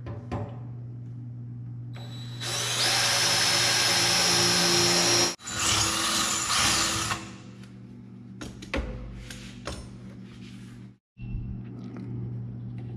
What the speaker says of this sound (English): let's see if we can drill this hole through both pieces of metal. And I've got my DeWalt angle drill here